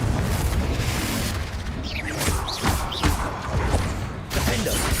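Confringo fire spell bursting in Hogwarts Legacy, loud booming blasts with crackling, whooshing fire effects layered over dense, continuous game noise, several sharp impacts in quick succession.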